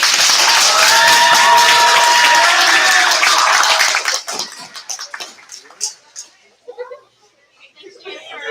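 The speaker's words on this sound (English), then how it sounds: "So let's give them a round of applause." A crowd at a youth sports banquet applauds the coaches, dense clapping that holds steady for about four seconds and then thins into scattered claps, with voices murmuring underneath.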